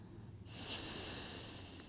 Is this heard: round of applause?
no